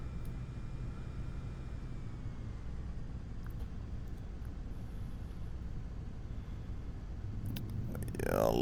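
A simulated airliner touches down on a long runway in Microsoft Flight Simulator X, approaching fast. A steady engine drone holds throughout, then a brief bumpy rumble of wheels meeting the ground comes at the end.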